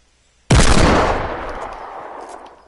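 Gunfire in the Fortnite video game: one sudden, loud, close blast with a sharp onset that rings out and slowly decays over about two seconds.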